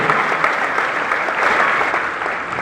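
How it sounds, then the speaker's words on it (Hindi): A large audience claps in sustained, dense applause, loud and continuous throughout. "जबरदस्त ताली बजाओ आप लोग जितने भी गोवा अचीव रहे"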